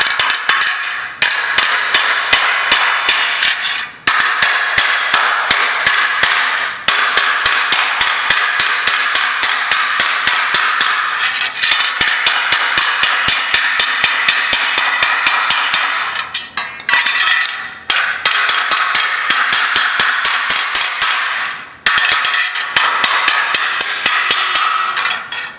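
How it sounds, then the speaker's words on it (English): A hammer beats repeatedly on a car body, sharp metallic blows struck in fast, steady bursts with brief pauses between runs, loud and close. "most people don't sit and beat their cars with a hammer"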